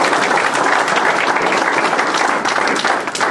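Audience at a scholarship awards brunch breaks into loud, dense applause and clapping, a continuous close wash of many hands for the whole stretch.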